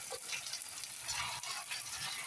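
Ginger garlic paste hits a hot pan and fries in a brief, dense hiss that holds fairly even throughout, with no voices.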